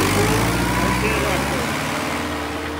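A New Holland 850 tractor engine runs steadily throughout, a continuous low, droning rumble with a strong bass hum that holds at a constant level.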